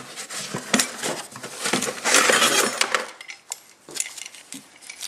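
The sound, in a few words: old propane camping stove being pulled out of its box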